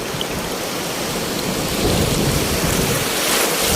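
Strong ocean waves at a beach in Casiguran, Aurora, a dense continuous roar of surf and rushing water, loud and close, swelling slightly midway with no voices.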